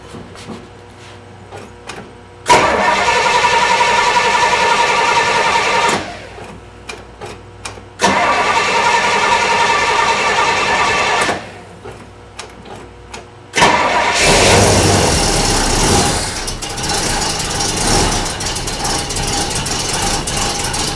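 A Pontiac LeMans engine with a choke problem cranks loudly in two long bursts separated by pauses, then a third attempt catches and settles into a rough, loud run.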